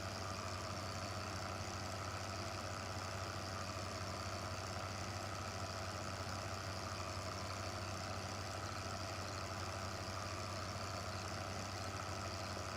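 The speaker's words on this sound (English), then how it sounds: "I don't think that'll be a problem driving through the hedge with this tractor." Tractor engine idling with dual wheels in Farming Simulator 15, a steady, unchanging low drone with a constant hum, no talking over it.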